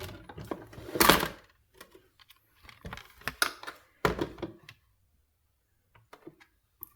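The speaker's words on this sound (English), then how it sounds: "we're just going to cut as per we usually do in our die cut machines." A die cut machine cranking card and cutting plates through its rollers, heard as a few close, sharp thunks and mechanical clatter separated by short quiet gaps.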